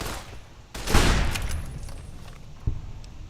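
A gun firing armor-piercing rounds in Fallout: New Vegas, one sharp loud blast followed by a decaying tail, then a smaller crack near the end, with no talking.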